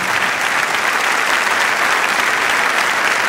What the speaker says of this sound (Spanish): Un aplauso para los incorporados